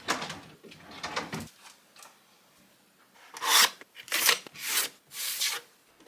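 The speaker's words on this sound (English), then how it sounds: "I'm going to be using my favourite Scrub Daddy damp duster, which is actually included in my giveaway, to wipe down all of the sides in the bedroom today" A Scrub Daddy damp duster sponge wiping bedroom surfaces gives soft rubbing swipes at first, then several louder, close, rasping strokes in a steady back-and-forth rhythm, with no voices.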